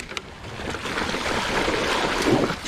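Mountain bike riding through a creek on the Landslide Traverse trail in Ladera Ranch, with steady splashing water and wind rush that swell slightly toward the end, close to the rider and without any talk.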